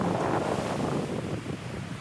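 Sea waves wash onto a sandy beach in a steady rushing surge, close and fairly loud, mixed with gusty wind buffeting the microphone and no voices.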